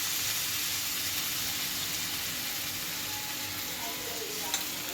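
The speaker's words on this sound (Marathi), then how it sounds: "हा धुवून घेतलेला गोळा आपण ह्याच्यात टाकायचा. मग ह्याचं घी बनणार. कमी गॅसवरच ठेवायचा." A washed lump of butter sizzles and crackles steadily in a hot kadhai over a low gas flame as it melts toward ghee, a dense, even frying hiss with faint talk beneath.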